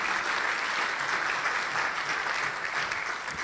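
A church congregation claps together at a Sunday service, a steady, dense burst of applause from many hands that holds at an even level throughout, with no talking on top.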